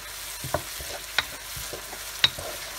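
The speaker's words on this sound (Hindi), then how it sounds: "अदरक लहसुन को थोड़ी देर हमने भूनना है प्याज के साथ।" Ginger and garlic fry with onion in a pan, a soft steady sizzle with a few sharp stirring clicks and scrapes, fairly quiet and close.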